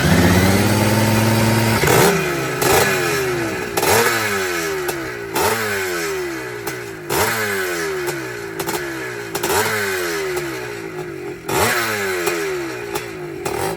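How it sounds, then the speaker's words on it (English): A two-stroke Yamaha motorcycle engine kicks into life after a brief lower hum, then revs hard over and over in sharp, buzzing bursts. It is loud and close, and no one speaks. "This is the way to start this two-stroke."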